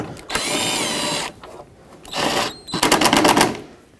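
A power tool runs up on the alternator mounting bolts of a 2008-2017 Buick Enclave, sounding as two loud whirring bursts and then a rapid rattling stretch, all close by with no talk.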